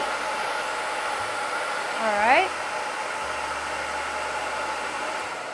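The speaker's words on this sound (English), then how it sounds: "We're just gonna straighten that out with the blow dryer a little bit." A blow dryer runs through a salon blowout, a steady close whoosh of air drying and straightening hair, while a voice briefly speaks over it.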